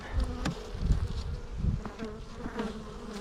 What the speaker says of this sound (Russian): Все, пчелы меня начинают сразу бить.